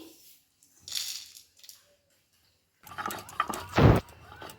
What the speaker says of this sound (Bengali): তো মশলাটা এইভাবে আমি শিলে গুঁড়িয়ে নিচ্ছি।